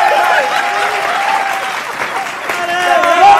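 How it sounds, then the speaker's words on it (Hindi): An audience at a Hindi comedy poetry show applauds steadily under music and a performer's voice, a sustained crowd clapping that runs the whole short stretch. "तालियां तालियां"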